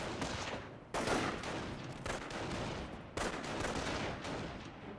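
MG42 machine gun in Company of Heroes 1 firing in long, continuous, dense bursts with sharp onsets, loud and close over a constant battlefield rumble.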